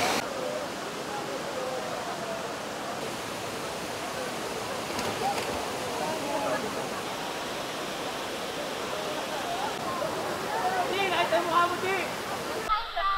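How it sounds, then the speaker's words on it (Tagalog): Constant rushing water pours steadily nearby, a broad even roar, with voices talking faintly underneath toward the end. "tapos meron sila ditong pa-falls na dito."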